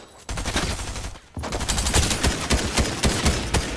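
A gun fires in Fortnite. Loud, rapid bursts of gunfire come close up, pause briefly, then resume in a fast, continuous string of shots.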